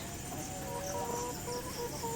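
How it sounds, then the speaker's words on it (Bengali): Thousands of layer hens in three-tier cages on a poultry farm, a faint, distant wash of overlapping clucks and calls forming a continuous background murmur with no talk. "কয়েক হাজার মুরগি।"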